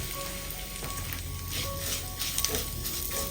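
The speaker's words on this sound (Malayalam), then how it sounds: "ഇതിലേക്ക് നമുക്ക് എടുത്തു വെച്ച അര കപ്പ് അവൽ ചേർത്തൊന്ന് റോസ്റ്റ് ചെയ്തെടുക്കാം" Flattened rice (aval) roasting in hot ghee in a pan over a low flame: a steady, soft crackling sizzle with occasional faint stirring scrapes, close and alone with no talking.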